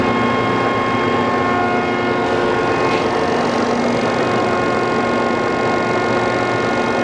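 A Landis 10 by 36 inch universal cylindrical grinder running as its feed starts, giving a loud, steady machine drone with a high whine and broadband grinding hiss that holds constant throughout.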